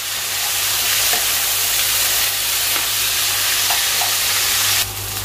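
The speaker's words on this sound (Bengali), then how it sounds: "কচু আলুটা আমি ভালো করে ভেজে নিচ্ছি।" Taro and potato pieces, rubbed with turmeric and salt, fry in a pan with a steady close sizzle and hiss, a few faint stirring knocks sounding now and then under the constant crackle.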